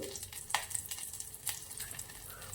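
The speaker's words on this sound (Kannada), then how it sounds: "ತುಪ್ಪ ಕಾದಿದೆ, ಸ್ವಲ್ಪ ಕರಿಬೇವು ಸೇರಿಸ್ತಿದ್ದೀನಿ, ಸ್ವಲ್ಪ ಹಿಂಗು" Curry leaves and asafoetida sizzling in hot ghee in a pan, a faint steady crackle with a few sharper pops and spits, heard up close with no voices.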